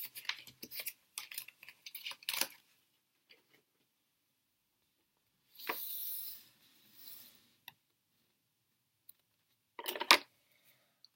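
Tarot cards are gathered and slid off a table in faint bursts of shuffling, flicking and tapping, separated by long quiet gaps, with no voice.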